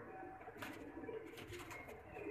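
Breeder pigeon cooing softly in a short, faint burst of low, rolling coos, with a little background noise and no talking.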